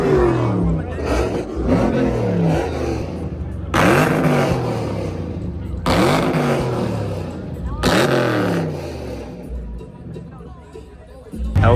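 Dodge Hellcat engines rev at an outdoor car meet, with several loud rising and falling revs over a steady crowd murmur and nearby voices.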